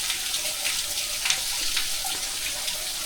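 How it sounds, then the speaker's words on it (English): Shallow creek water trickling and draining down into a sinkhole during low dry-spell flow, a steady close hiss of running water with faint splashes. "It slows down to a trickle in dry spells."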